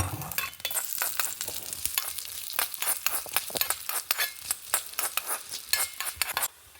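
Coriander seeds roasting in ghee in a pan, with a sizzle and quick, busy stirring scrapes of a spoon against metal, close up and continuous, no speech.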